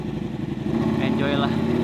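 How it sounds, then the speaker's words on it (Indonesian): Ducati Panigale motorcycle in stop-and-go city traffic, its engine idling and rumbling close by at low revs, with other traffic noise and a brief high-pitched tone partway through. "Jody Motovlog HD yang bawa Panigale macet-macetan gitu ya"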